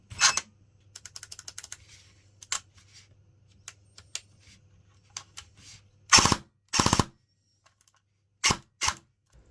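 A Cyma Alfa AK airsoft rifle (CM103) cycling with sharp mechanical clicks, first scattered single shots, then short loud bursts of rapid automatic fire near the microphone, with quiet gaps between.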